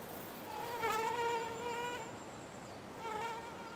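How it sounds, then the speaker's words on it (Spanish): Caddisflies and other insects swarming at dusk in the Tatra Mountains, a dense, steady high buzzing whine that swells and fades slightly, close and continuous with no voices. "Al anochecer, cuando salen los tricópteros, el aire vuelve a llenarse de insectos."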